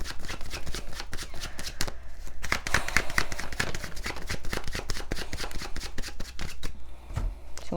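Tarot cards being shuffled in the hands, a close, steady stream of rapid riffling and slapping card sounds continuing for several seconds without speech.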